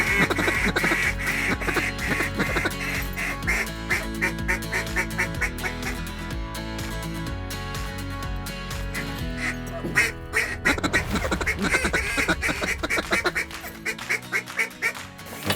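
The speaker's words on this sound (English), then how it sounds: "It's the ducks." Ducks quack repeatedly at a duck-hunting spread, a dense chorus of calls, some near and loud, others overlapping in the distance, running continuously with little pause.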